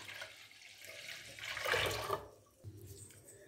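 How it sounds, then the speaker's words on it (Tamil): Water poured from a container into buttermilk batter in a pot, a soft close splashing pour that builds to a brief gush and then stops abruptly, followed by faint trickling and no speech. "தண்ணியும் இதில் சேர்த்துடலாம்."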